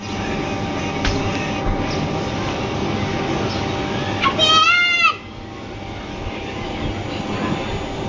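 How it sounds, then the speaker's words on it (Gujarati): A steady, broad engine rumble from an airplane passing overhead near Atal Bridge in Ahmedabad holds for several seconds, then drops off, with children's voices and chatter in the background. "જો જાય પ્લેન"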